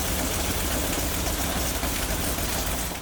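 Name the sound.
old radial petrol engine of Ram Kangaroo vehicle running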